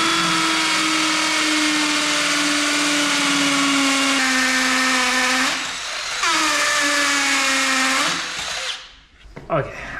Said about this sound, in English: Let's drill a hole in an inconspicuous area